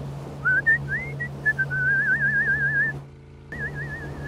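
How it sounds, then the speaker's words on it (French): A person whistles a wavering, trilling tune close by aboard a boat at Saint-Tropez, the pitch sliding and warbling, with a steady low boat engine hum underneath and a brief pause near the end. "quand je suis en bateau, même quand je pilote pas, faut que je sifflote."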